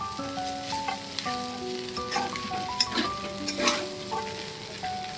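Food sears in a wok over full high heat, browning and sticking to the pan's bottom, giving a continuous loud sizzle with crackling bursts and occasional stirring scrapes.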